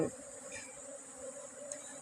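Honeybees from a swarm taken off a tree branch buzz while crowding into a hive box, a faint, steady droning hum with a light whine throughout and no talk.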